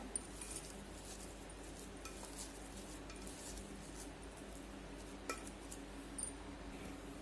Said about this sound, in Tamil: ஆட் பண்ணிவிட்டு இதையும் நல்லா இதோட மிக்ஸ் பண்ணி விட்ருங்க.